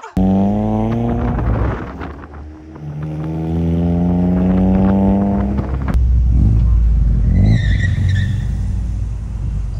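A car engine revs and climbs through gears in repeated rising sweeps, loud and close as if heard from inside, easing off briefly before pulling hard again, with tires skidding near the end.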